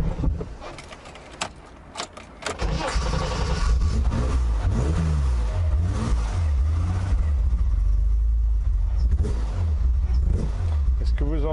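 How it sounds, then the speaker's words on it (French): A freshly restored BMW Z1 engine revs up from a rough idle, the note rising and falling several times with sputtering pops and misfire-like stumbles, close to the microphone. "Est-ce que vous entendez que ça tout saute quand je réaccélère une fois revenu au ralenti? Ça tout saute, ça pétarade."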